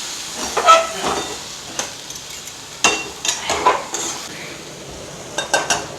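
Cluster beans paruppu usili being stirred in a pan, with irregular scraping clinks of a spoon against metal in short bursts, close and fairly loud, over a faint frying hiss.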